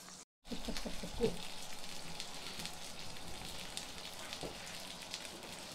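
Microwave chorizo and tomato rice sizzles and crackles softly as it heats in a hot pan, a steady gentle hiss with occasional small pops, quiet throughout.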